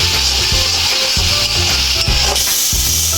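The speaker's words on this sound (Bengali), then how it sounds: "এবার মশলাটা আমি ভালো করে কষিয়ে নেব।" Ground turmeric, cumin, coriander and chilli powder stir-fried in oil for a tengra fish curry, loud constant sizzling with rhythmic scraping strokes of a spatula against the pan, close up and alone.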